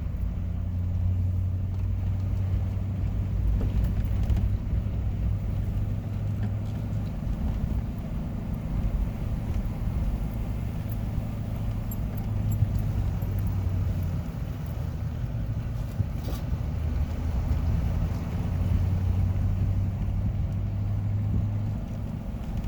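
A big old diesel pickup truck cruising a highway, heard from inside the cab as a constant low engine drone with steady road and wind rumble, no talking over it.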